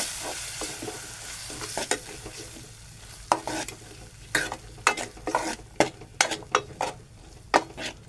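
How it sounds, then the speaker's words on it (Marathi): A spoon scrapes and clinks against a pan while mushroom curry with turmeric is stirred, faint sizzling underneath and irregular sharp taps and scrapes coming close and clear. "आणि ढवळून घेऊ"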